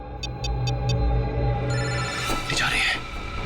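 A telephone rings in a crime drama scene: four quick, evenly spaced electronic pulses at the start, then silence from the phone as background music and people talking carry on.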